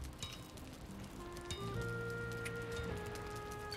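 Steady rain hiss falls in a video game, a broad constant patter with game music tones and effects layered over it, no talk.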